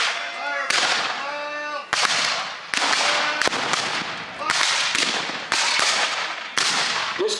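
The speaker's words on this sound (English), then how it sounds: "This command, fire by files, is where one man fires from the right or the left at a time" A musket volley fired by files at a Civil War reenactment: about seven sharp, loud cracks one after another at roughly one-second intervals, each trailing a long rumbling echo, with a voice faintly audible between shots.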